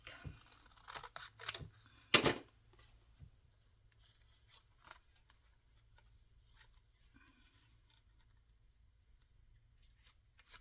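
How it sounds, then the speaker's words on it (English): Scissors snip through lace for a hankie junk journal, several crisp close cuts clustered in the first few seconds, followed by quieter rustling and handling of the fabric and paper. "I'm just going to cut this down a little bit."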